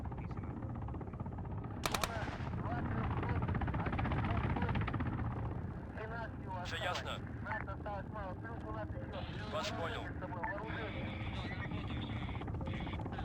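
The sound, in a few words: Mi-28 attack helicopter in video game Arma 3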